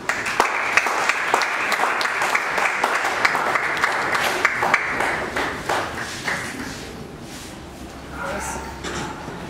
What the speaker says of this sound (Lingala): Sous vos applaudissements, nous avons ma maman présidente